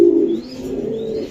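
A racer pigeon coos close by, a single low throaty rolling call with a faint thin chirp above it, short and clear with no talk.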